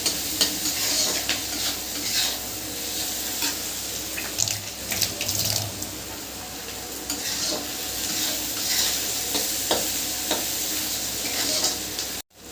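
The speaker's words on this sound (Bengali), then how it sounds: "পেঁয়াজটা ভাজা ভাজা হয়ে গেছে" Onions frying with salt in a pan while mutton is being cooked give a steady, close, continuous sizzle with faint scrapes, lasting throughout with no voices.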